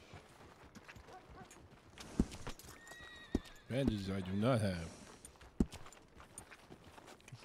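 A horse in the Red Dead video game whinnies in a drawn-out neigh midway, amid scattered hoof clops and thumps, while someone talks briefly over the game sounds.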